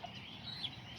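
Azteca Kikiriki chickens, roosters and hens at a pigeon loft give a brief high call over steady background noise, a short clucking or gobbling-like bird sound lasting about a second.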